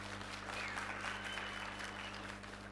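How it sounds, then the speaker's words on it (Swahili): An audience at a speech about Tanzanian national unity breaks into sustained applause, a dense even wash of clapping that holds steady for nearly three seconds over a faint electrical hum. "Piga makofi kwa ajili ya hili."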